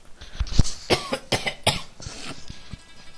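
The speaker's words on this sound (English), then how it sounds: "I'm sorry for coughing so much." Several harsh coughs come in a quick, irregular fit, close and loud, with small throat-clearing sounds and breaths between them.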